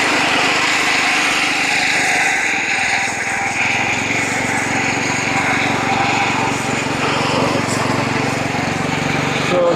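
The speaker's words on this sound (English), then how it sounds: "Just going to go ahead and get started mowing" Lawn mower cutting grass in a backyard in Washington, its engine droning loudly and steadily at close range throughout, with a slight dip in pitch partway as the load changes.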